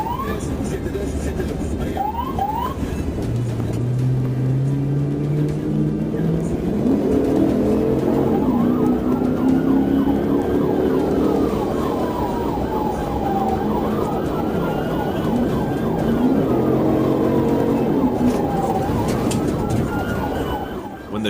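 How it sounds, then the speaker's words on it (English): A police car's siren wails with rising and falling sweeps over loud road and engine noise during a traffic pursuit, steady and close, while a voice talks underneath. "the trooper activated lights and siren"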